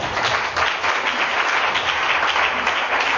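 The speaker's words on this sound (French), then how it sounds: "Acclame puissamment Jésus." A church congregation applauding during prayer, a dense, sustained wash of many hands clapping at once, loud and even throughout with no distinct individual claps standing out.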